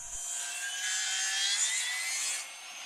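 A table saw whines as it cuts through wood, a high sustained grinding that builds, holds, then drops off near the end.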